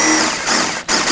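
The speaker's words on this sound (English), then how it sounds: "I'm going to take a drill bit and drill out the center" A power drill with a bit boring out the center of a plastic push rivet on a 2001-2007 Volvo V70 bumper, a loud, close, steady whine with a brief dip.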